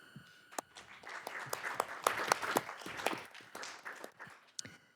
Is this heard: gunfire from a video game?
no